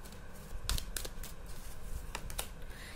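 Tarot cards being handled and shuffled, a few soft papery riffles and slaps over a low steady room hum, close and fairly quiet with no talking.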